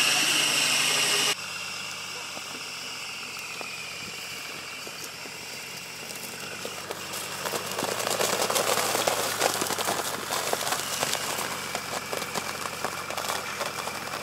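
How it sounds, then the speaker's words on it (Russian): A Niva fitted with tractor tires and UAZ axles drives onto layered ice, its engine droning steadily and rising in effort partway through, with scattered cracking and crunching from the tires on the ice. "тракторные колеса упираются и за счет шашечек прям пробуют выбираться на лед"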